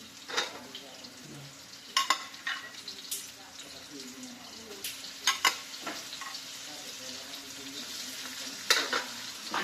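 Shrimp frying in a pan at home, with stirring scrapes and soft sizzling, brief clinks of utensil on pan, and scattered talk over the cooking.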